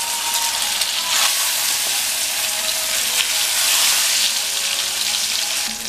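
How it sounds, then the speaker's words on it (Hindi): Eggs frying in hot mustard oil for an egg curry, a steady loud sizzle that holds without a break, with a few faint crackles over the hiss. "अंडे को थोड़ा सा फ्राई"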